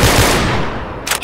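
Rapid gunfire in the Garry's Mod video game, with a loud burst of shots at the start that fades into a short decaying tail, then a quick cluster of sharp cracks at the very end.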